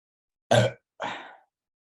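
Two quick, close burps from a podcast host, the first louder and shorter, the second a softer drawn-out gurgle after a brief pause.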